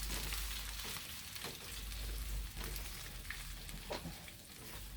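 Tomatoes cook down in a pan with a soft, steady sizzle and bubbling, quiet and continuous with occasional small pops and stirring sounds, no talking.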